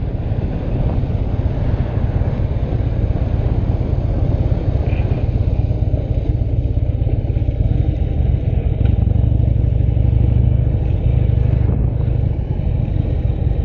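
A 2016 Harley-Davidson Low Rider motorcycle engine rumbles steadily while riding, a loud, continuous low drone mixed with wind buffeting the microphone, with no talking.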